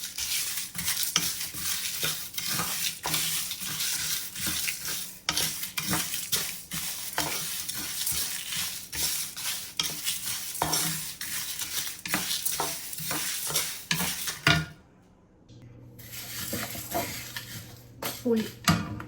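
Kashmiri and piriyan chillies dry-roasting in a hot pan for a chammanthi podi, with steady sizzling and frequent stirring clinks of a spoon against the metal that stop near the end, leaving a quieter hiss.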